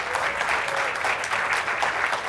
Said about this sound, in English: you should totally just start applauding right now